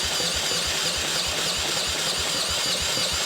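A rare three-wheeler's engine runs with a steady, rapid low putter, close and loud, as it starts for the first time in fifteen years, with no talk over it.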